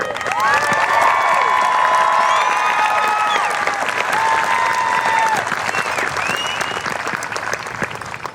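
Graduation ceremony audience breaks into sustained applause with cheering and whoops, a dense loud wash of clapping and shouting voices across the whole stretch, easing slightly near the end.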